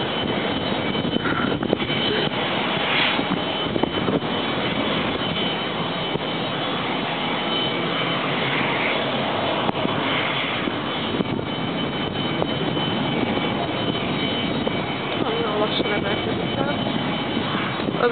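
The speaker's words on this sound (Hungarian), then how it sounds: "már tudják, milyen a felszállás, hallod?" Airplane engines roar steadily through a takeoff near Budapest, a continuous broad loud rumble and whine throughout, with faint talk mixed in underneath.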